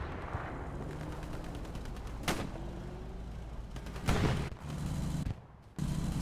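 Distant gunfire and heavy bangs rumble through a Hell Let Loose match on Tobruk, with a few sharp loud shots standing out over a continuous low engine drone from a tank.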